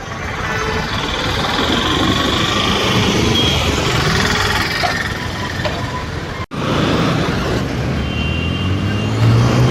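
A car moving through city traffic at signalled junctions, with a steady, fairly loud road and engine rumble that continues throughout and breaks off for a brief moment partway through.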